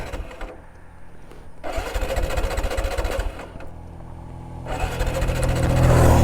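TVS Apache RTR 180 motorcycle sitting in neutral, its electric self-starter cranking in two long, loud whirring bursts with a short pause between, the engine never catching.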